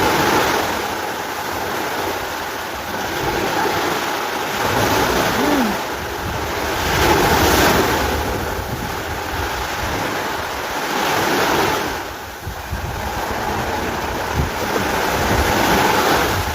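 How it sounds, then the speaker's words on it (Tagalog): Sea waves washing in at the shore with gusts of wind buffeting the microphone, a continuous roar that swells and recedes in slow surges, fairly loud and close, without talking. "Ang ingay na naman ng dagat."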